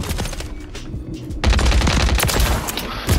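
Dense gunfire rattles through a Modern Warfare 3 match, loud continuous bursts and impacts that thin briefly then surge back into a steady barrage for the rest of the stretch.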